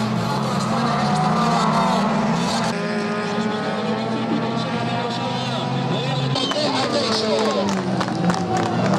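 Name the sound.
spectators applauding as autocross drivers pass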